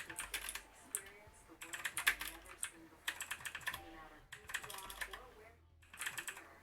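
Computer keyboard keys clatter in quick, uneven bursts while someone plays Ultimate Mortal Kombat 3 Plus, rapid clicks separated by short pauses, heard fairly close but quiet.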